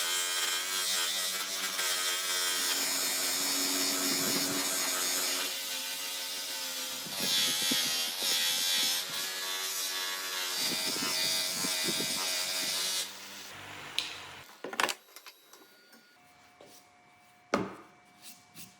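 A buffing machine polishes the handle of a handmade Damascus knife forged from forklift chain, giving a steady, loud abrasive whir that runs continuously, then cuts off and leaves a few scattered knocks and clicks.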